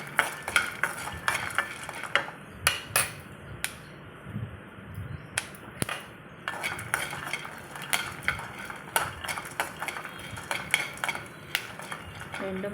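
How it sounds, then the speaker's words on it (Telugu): Peanuts and roasted gram fry in a kadai while a spatula stirs them, giving repeated metallic clinks and scrapes over a faint, steady sizzle. "పల్లీలు కొంచెం ఫ్రై కాగానే కొన్ని పుట్నాలు వేసుకోవాలి."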